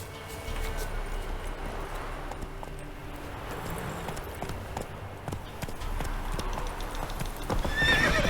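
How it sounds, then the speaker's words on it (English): Horses in The Witcher 3 trot with steady clip-clop hoofbeats while one neighs and whinnies, close and continuous over a low ambient rumble from the game world. "Time to water the horses."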